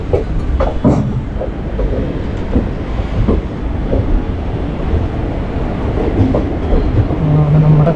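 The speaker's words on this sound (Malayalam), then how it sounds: "ഈ കിടക്കുന്ന കേട്ടോ നമ്മൾ വന്ന വണ്ടി" A train on the Shornur–Coimbatore line rumbles along the rails in light rain, with rhythmic clicking and clattering, loud and close, with wind noise throughout.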